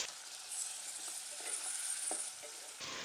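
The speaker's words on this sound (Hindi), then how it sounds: "अदरक लहसुन को फ्राई कर लेंगे अच्छी तरह से।" Onion, ginger garlic paste and tomatoes fry in a pan with a soft, continuous sizzle. A few faint stirring scrapes sound close by, and no one talks.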